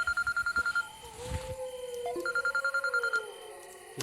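A telephone rings in short repeated electronic bursts, pausing briefly between rings, at moderate volume with faint background noise.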